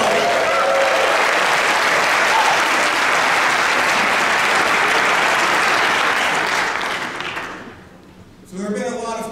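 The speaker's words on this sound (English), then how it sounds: "So let's have a little cheering." A commencement crowd at Kentucky Wesleyan College applauds and cheers the graduates, loud dense clapping sustained for about seven seconds before dying down, then a speaker starts talking.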